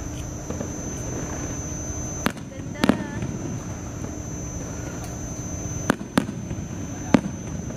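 Several sharp firework bangs burst out at uneven intervals over a steady, hissing outdoor background at an amusement park, with people talking faintly in between.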